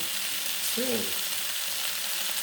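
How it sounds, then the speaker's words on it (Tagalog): Shrimp sautéing in a pan with garlic, butter and ginger gives a continuous, fairly loud frying sizzle that holds steady from start to finish, with a brief tonal squeak near the start. "Ginisa sa garlic at sa butter at saka sa ginger."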